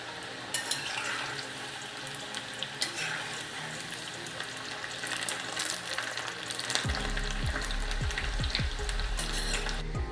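Shankarpali dough pieces deep fry in hot oil with a constant bubbling sizzle and crackle, while occasional utensil knocks and low thumps come in during the second half, no talking.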